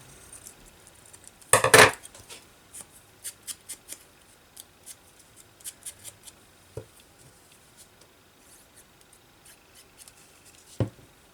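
Scissors snip through Amazon packaging for junk journal pockets, one loud crunchy cut near the start followed by a long run of small, quiet snips and handling clicks, close up with no speech.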